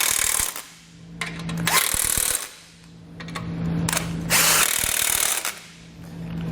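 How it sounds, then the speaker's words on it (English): Base plate bolts on a 2015 Chevrolet being tightened with a 15mm socket, bursts of a power driver whirring in two long runs with brief pauses and clicks between, close and loud. "we'll tighten them back down with a 15mm socket"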